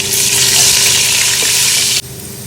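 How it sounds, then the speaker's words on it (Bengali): Potatoes fry in hot oil in a wok with a loud, steady hiss and crackling sizzle close up, which cuts off abruptly near the end, leaving a quieter background. "আমি এদিকে কড়াইতে তেল দিয়ে দিয়েছি। আলু ভেজে নেব।"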